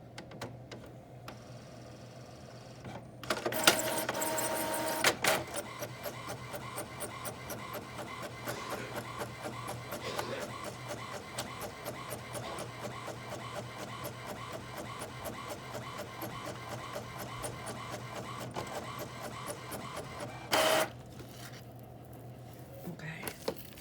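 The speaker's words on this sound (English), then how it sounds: "So it's printing." A printer runs through an ornament print job, starting with a loud feed burst, then steady mechanical whirring and rapid ticking pass after pass, ending with a brief clunk near the finish.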